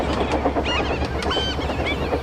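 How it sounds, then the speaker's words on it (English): A goods train rushes through much too fast, its shrill whistle warbling in repeated high calls over a steady, loud rumbling roar that runs the whole time. "he saw a goods train come rushing through"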